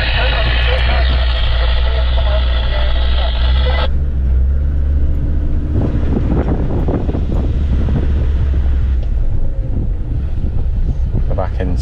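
A 4x4 vehicle rolls steadily over light gravel in the countryside past a farm gate, with a continuous engine and tyre rumble and heavy wind buffeting on the mic, while someone speaks over a CB radio.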